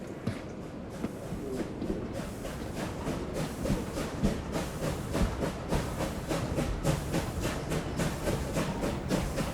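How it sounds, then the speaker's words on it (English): A steam train runs steadily along the rails in an audio drama scene, with a continuous rumbling chug and hiss and faint rhythmic clicking throughout, moderately loud and with no talking. "The train ran south for 2 days."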